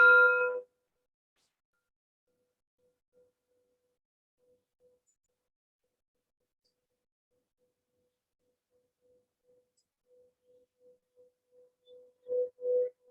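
A meditation bell rings in a near-silent room, a single resonant strike that fades, followed later by a soft sustained tone swelling through a few gentle pulses before two louder strikes near the end.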